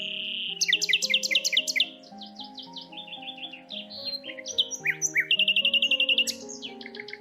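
Common nightingale song: a varied run of loud whistled phrases, rapid repeated chirps and trills in quick succession, close and clear with pauses between bursts.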